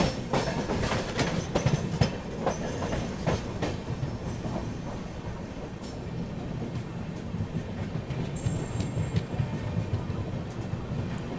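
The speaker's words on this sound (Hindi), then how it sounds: "फिलहाल टुंडला रेलवे स्टेशन में अपना अराइवल हो रहा है।" The Northeast Express rolls into Tundla railway station with a continuous heavy rumble and clatter of wheels on track, sporadic metallic clanks and faint high squeals over steady train noise.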